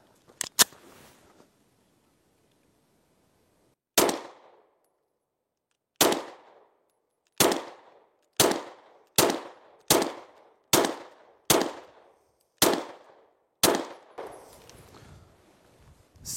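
Steyr L9A1 pistol fired on a shooting range: sharp, loud single shots with short decaying echoes, a couple close together early, then about ten more spaced roughly a second apart.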